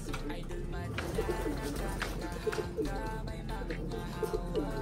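Pigeons coo repeatedly in soft, throaty bursts close by, with a person talking over them and some background noise.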